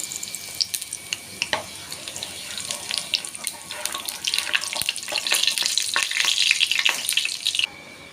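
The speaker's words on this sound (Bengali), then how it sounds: "তেল গরম হয়ে গেছে জিরে ফোড়ন দিলাম গোটা জিরে" Whole cumin seeds sizzling in hot oil in a kadai, a steady crackling hiss that builds and thickens, close and without talk, then stops abruptly near the end.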